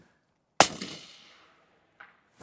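Single suppressed rifle shot through a Canco suppressor outdoors, a sharp close crack with a decaying tail, then a faint second impact about a second and a half later.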